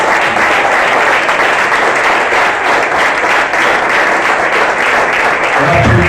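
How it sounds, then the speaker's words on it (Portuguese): A church congregation claps for the Lord during a Sunday worship service, a dense, loud wash of sustained applause that fills the room steadily from start to finish. "Vamos aplaudir o Senhor Jesus"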